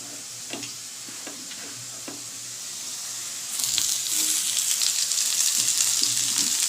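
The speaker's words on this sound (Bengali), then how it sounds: "কারণ পেঁয়াজটা ভাজা হতেও কিছুটা বেশ সময় লাগবে" Chopped onions frying together with potatoes in a pan, a steady close sizzle that grows louder and brighter partway through as they are stirred, with occasional soft scrapes.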